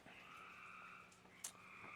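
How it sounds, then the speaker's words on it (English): Frogs croak loudly outdoors in the early morning, a steady, continuous chorus running throughout with one sharper call standing out near the middle. "The frogs are going ham right now, so I apologize."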